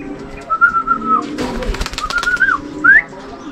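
Close racing pigeon calls: soft, whistle-like coos and short rising notes repeated over a few seconds against faint background noise.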